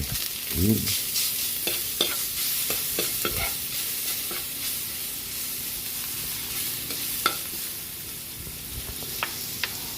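Ginger and garlic sauté in hot oil in a pan, giving a steady close sizzle with occasional spoon taps and scrapes against the pan.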